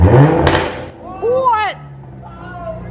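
A manual Mercedes C300 with resonator delete, X-pipe, quad C63 tips and a Project A tune sits idling, a low burbling exhaust under a brief sharp pop and some background sounds, fairly close.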